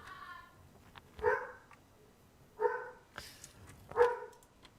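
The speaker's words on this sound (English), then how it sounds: "Dogs are unhappy about something." Dogs bark in three or four separate bursts spaced a second or so apart, moderately near, with faint sounds in the quiet gaps between barks.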